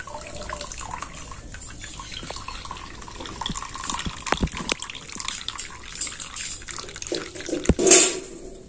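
Hot water draining and trickling from freshly made chhana cheese curd for sandesh, a steady close pour and splash with a few louder drips near the end, no voices.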